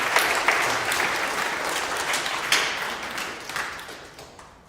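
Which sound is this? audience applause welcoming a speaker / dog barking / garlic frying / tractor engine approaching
audience applause welcoming a speaker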